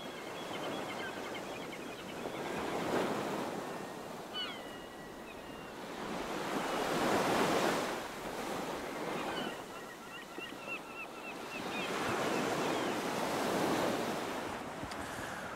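Ocean waves roll onto the golden sands of Errol's Ferry Beach at Elie, swelling and receding in slow repeated surges with wind noise rushing over the microphone; no voices.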